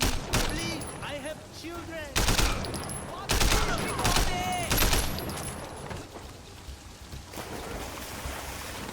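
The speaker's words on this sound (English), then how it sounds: "I didn't mean to shoot that guy" Bursts of gunfire from the open-world action game Sleeping Dogs, several loud volleys at irregular intervals between quieter stretches, with a voice talking in between.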